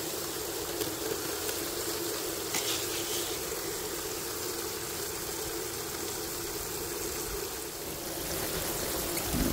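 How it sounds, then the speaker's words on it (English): Water runs steadily off the back of a gold high banker, a continuous trickling stream heard close over a constant engine hum from the pump. "Looks like I'm losing some water off the back there."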